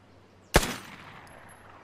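A single gunshot in the video game Vigor, a sharp loud crack followed by a short decaying tail, standing alone with no talk.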